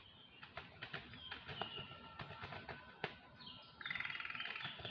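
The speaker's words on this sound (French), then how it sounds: "il y a un oiseau qui se réveille là" A bird stirring awake chirps in short bright repeated notes, with a quicker trilling burst near the end, over a low background murmur.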